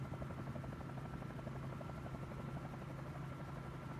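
A Bell 47J helicopter in a flight simulator game flies along a seafront, its rotor giving a steady, even drone and low thrum that stays constant throughout, with no talk.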